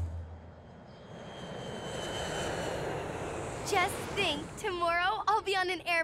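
A distant airplane drones steadily and gradually grows louder, then voices start talking over the fading engine noise.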